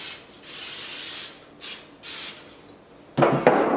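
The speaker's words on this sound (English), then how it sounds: "I'm gonna grease and flour a 10 by 15 pan." Cooking spray hisses in three bursts onto a 10 by 15 baking pan for Texas sheet cake, followed by a short scraping rustle at the end.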